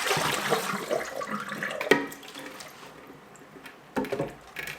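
Tap water runs over lettuce as it is rinsed, a close hiss of flowing water that is strongest at first, thins out, then returns in short splashy bursts.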